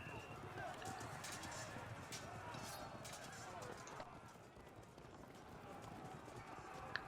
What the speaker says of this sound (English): Gosh, I wish the light horse would just leave us alone.